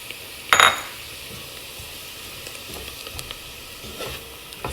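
Flour stirred into frying onions in a pot for cheese broccoli soup: a soft, steady sizzle with a sharp scrape of the utensil near the start and faint stirring clatter afterward, close by.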